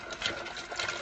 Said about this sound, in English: now we're just going to go ahead and add some more water to it